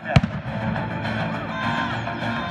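A single sharp cannon blast thuds close by at the start, followed by a rumbling, noisy battlefield din that carries on steadily, in a trebuchet battle setting.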